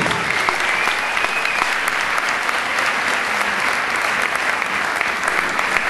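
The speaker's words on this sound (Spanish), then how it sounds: "El último aplauso para despedirla." An audience gives farewell applause at a university student gala, a thick, even wash of clapping that holds steady from start to finish.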